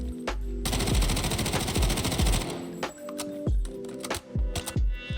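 Submachine gun fire in a Delta Force firing range, shooting at bots: loud rapid bursts of automatic shots with sharp repeated cracks, then a few shorter bursts and single shots with brief pauses, no talk.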